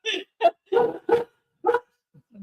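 Household dogs bark close and loud in a quick series of about five sharp woofs, evenly spaced, followed by a couple of fainter low sounds.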